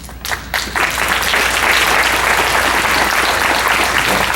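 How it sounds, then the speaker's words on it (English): Loud, dense applause from a fundraising gala audience as committee members are called to stand, building after a couple of brief bursts into a steady, sustained roar of clapping. "we give you a nice round of applause"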